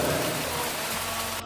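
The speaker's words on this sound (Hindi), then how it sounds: "तभी तेज़ी से बिजली कड़कने लगी और पानी भी तेज़ी से गिरने लगा" Heavy rain pours during a thunderstorm in a story scene as a dense, steady hiss of close, loud rainfall with no distinct thunderclap, cutting off abruptly at the end.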